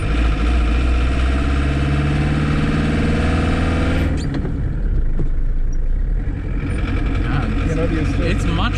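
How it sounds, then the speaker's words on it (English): A Fiat Uno diesel engine runs rough with its timing advanced, giving a loud, throbbing, uneven clatter that drops to a quieter idle about halfway through. Someone talks over it. "So it's running a bit rough, the timing's off, it's a bit advanced."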